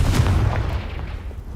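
A Confringo blasting spell explodes in Hogwarts Legacy, a loud, deep booming blast with heavy low rumble that decays briefly, with no talk over it.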